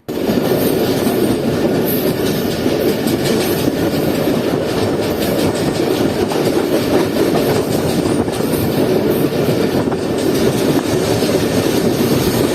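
Shalimar Express train in an AC standard coach rolling along the tracks, steady loud rumble with rhythmic wheel clatter and faint squealing throughout, heard from inside the carriage.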